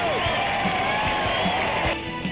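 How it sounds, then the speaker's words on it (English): Gallery crowd at a 2003 Portland Classic golf tournament cheering an eagle at the 6th hole, a broad roar of applause and whoops that holds steady then eases off at the end. "Crowd loves it, big crowd."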